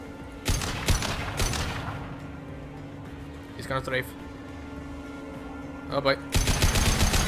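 Enemy strafing gunfire in the Mass Effect 2 video game cracks out in a few sharp bursts over a steady mechanical hum. Rapid fire returns at the end, and someone speaks briefly.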